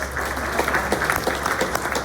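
Steady, dense applause from an audience at a Corona community morning event, welcoming a fitness and wellness center representative; fairly loud and even throughout, with no talk.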